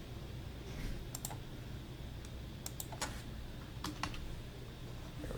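Computer keyboard typing in short bursts of quick clicks, close and clear over a steady background hum, with no talking.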